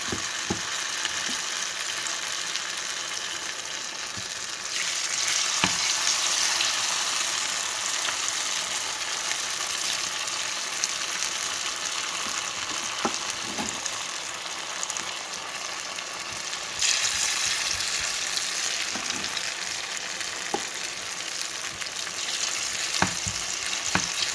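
Bitter gourd pieces fry in a pan of hot oil, sizzling loudly and continuously. The sizzle swells for a stretch in the middle, and occasional clicks of stirring come through. No one speaks.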